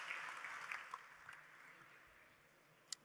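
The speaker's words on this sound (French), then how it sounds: "On peut vous applaudir bien fort" Audience applause at an official launch event for an industry program, starting at moderate strength and fading steadily, with a sharp click near the end.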